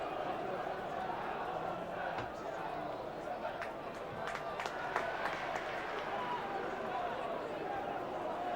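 Football crowd in a stadium at a Leicester City match, a steady broad roar with scattered clapping, heard under a commentator's continuous talk.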